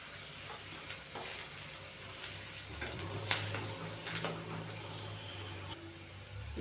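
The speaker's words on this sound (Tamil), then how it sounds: "பிரண்டையை அலசிட்டு அதில் சேர்த்துக்குவோம். இது நல்லா எண்ணெயிலே வேகட்டும்." Pirandai (adamant creeper) frying in hot sesame oil, a steady broadband sizzle with occasional stirring scrapes and clinks, with a low hum underneath, no talking.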